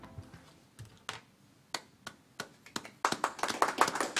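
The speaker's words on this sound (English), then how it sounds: "And the crowd goes wild" Scattered claps from participants in a remote online meeting, sparse hand claps at first, then a denser burst of clapping through laptop microphones toward the end.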